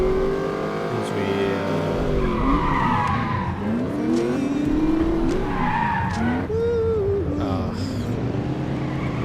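In the video game The Saboteur, a car engine revs and changes pitch while tires skid and squeal repeatedly, with a voice talking over the driving.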